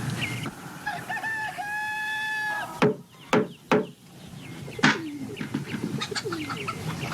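Chicken clucking and a rooster crowing, the crow a long drawn call, then sharp squawks and clucks close by, loud, with no talk over them.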